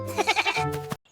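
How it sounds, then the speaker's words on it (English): A goat bleats once, a close, wavering, trembling call lasting under a second before cutting to silence. "This is a goat. The goat says,"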